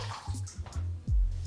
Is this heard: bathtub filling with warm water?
yes